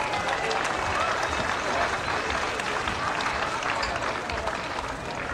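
Steady crowd applause and clapping fill a basketball gym during a women's college game, continuous and loud from start to finish with a broad, dense roar and no pauses.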